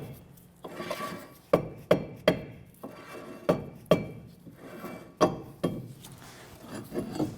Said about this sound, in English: our rotor is stuck on there a little bit, so we're going to go ahead and give this a few bonks and loosen that up